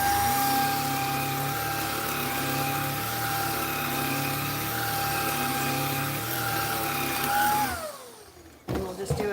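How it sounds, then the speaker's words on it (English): A vacuum cleaner runs loud and steady with a high whine, used to desensitize a Bernedoodle puppy, then winds down and cuts off near the end, followed by a brief knock. "we're going to take the vacuum."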